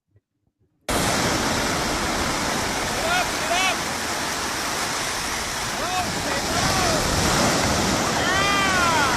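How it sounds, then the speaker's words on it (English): Ocean surf at a beach where a child is learning to surf rushes as a steady, loud broadband wash after a brief quiet start, with faint birdlike chirps and distant voices over it. "Now we're going to see what happens the first time Ash ever even got in the water with a surfboard"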